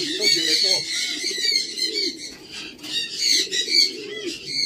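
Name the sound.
many pigeons cooing in a loft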